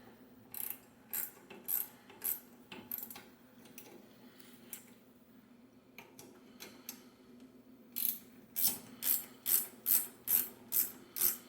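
Socket wrench ratcheting while replacing a broken garage door torsion spring: a first run of rhythmic clicking strokes, a pause with fainter clicks, then a louder, quicker series of ratchet strokes close by.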